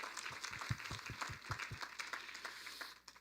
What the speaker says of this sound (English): Give the Guardians a round of applause.